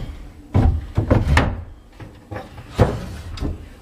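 Big old linen closet drawers in a house slide open and shut several times in a row. Each pass ends in a close, hollow wooden thunk, and a few softer knocks fall in between.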